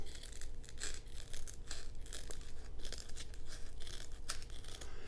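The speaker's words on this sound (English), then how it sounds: "I think I'm just gonna take some scissors and just kind of cut along this area here." Scissors cut through a thick Velcro-backed holster pad in repeated crisp, rasping snips and tearing crunches, close and fairly quiet with no talk.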